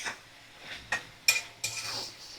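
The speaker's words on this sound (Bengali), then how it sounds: "তো চিনি দিয়ে চিনিটা ভালো করে আমি মিশিয়ে নেব।" A utensil scrapes and taps against a cooking pan as sugar is stirred into spinach, a few distinct clinks and short scraping strokes, close up and without talk.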